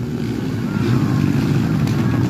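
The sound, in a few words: underbone motorcycle racing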